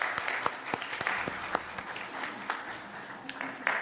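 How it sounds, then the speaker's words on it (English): Audience applause during a multiplatform church worship service, steady and fairly quiet with a few sharper individual claps standing out over the continuous patter. "give them an applause for their being here with us"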